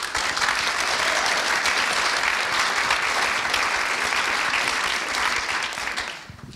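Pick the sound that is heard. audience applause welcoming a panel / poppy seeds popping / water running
audience applause welcoming a panel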